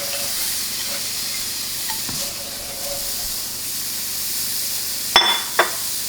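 Leeks sizzle in a hot pan with no oil, a soft continuous hiss broken by faint stirring scrapes and a couple of sharp clatters near the end.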